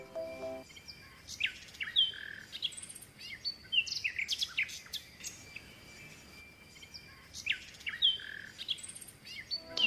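Parrot calls in a short series of bright, squawky chirps and whistles, fairly close and loud, separated by brief pauses and standing alone over a quiet background.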